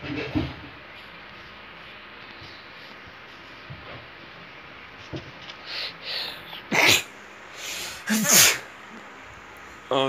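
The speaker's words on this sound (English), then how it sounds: "Oh good, I had to sneeze." A sudden human sneeze, loud and close, comes after a stretch of quiet breathing and is followed by a few more bursts of breath and sniffing.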